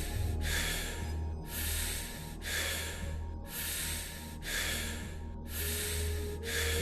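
Close, powerful breathwork breathing in a breathing meditation, with a steady cycle of five strong airy breaths, each rushing in and out at an even pace over a faint hum.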